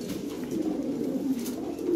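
Lahore Siraji pigeons coo in a low, continuous rolling murmur close by, with no talk over it.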